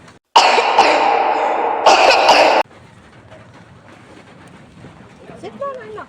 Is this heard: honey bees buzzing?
no